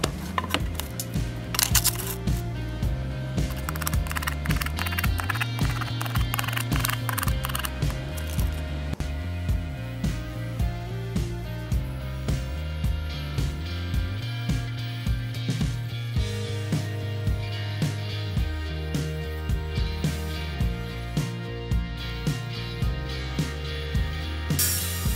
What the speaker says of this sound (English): We're gonna cut a hole, see how well the DNA diamond blade performs on this grinder.